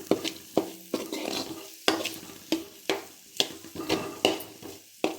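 Green chillies frying in a pan for cauliflower fried rice, a close sizzle broken by a steady run of spatula scrapes and stirring strokes about every half second, with no voices.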